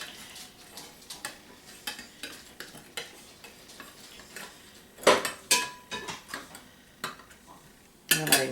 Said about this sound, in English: you can hear the crust crunch when you cut through it